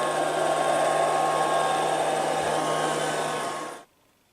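A Liectroux B3000 robot vacuum cleaner runs with a steady, close whirring hum. It cuts off abruptly near the end, leaving silence.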